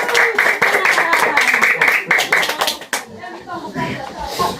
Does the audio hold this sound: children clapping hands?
yes